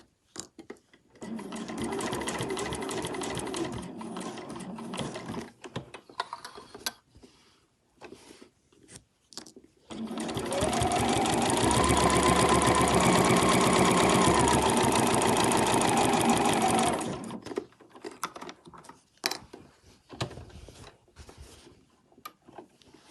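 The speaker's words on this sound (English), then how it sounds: "your sewing machine presser foot doesn't push it down" A sewing machine runs in short bursts, then stitches steadily for several seconds at a loud, even whir before stopping, with small handling clicks around it.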